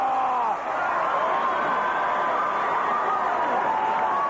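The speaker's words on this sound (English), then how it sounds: "Listen to this crowd come to life." An arena crowd at a 1984 WWF wrestling match between Paul Orndorff and Tony Garea cheers and roars in a steady, dense wash of noise that holds loud throughout.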